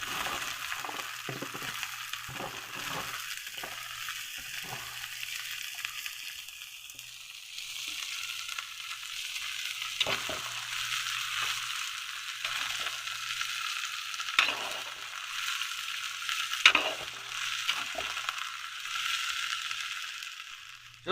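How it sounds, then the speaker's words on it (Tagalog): String beans sautéing in a pan over a steady, fairly quiet sizzle, with intermittent scraping and stirring clatter throughout, no talking. "So, nagisa natin yung ating sitaw guys."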